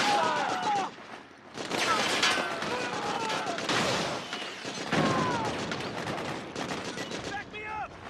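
Rapid gunfire bursts from the video game Metal Gear Solid 4 crackle loudly in repeated volleys, layered with shouted soldier voices and battle chaos throughout.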